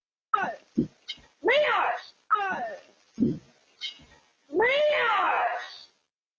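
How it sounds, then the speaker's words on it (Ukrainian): Cat meowing repeatedly in a quiet suburban setting, a series of short and drawn-out meows of varying length, with the last one long and loud, heard up close with no other sounds. "Головний герой цієї історії кіт Лео"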